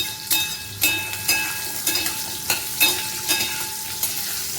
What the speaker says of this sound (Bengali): পটলগুলো ভেজে নিই এই তেলেতেই, অনেকটাই তেল রয়েছে